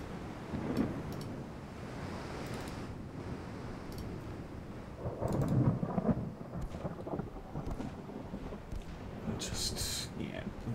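A thunderstorm rolls over the sea in a naval warship strategy game, a steady wash of rain and wind with low rumbling swells of thunder, one louder surge midway, under a voice talking throughout.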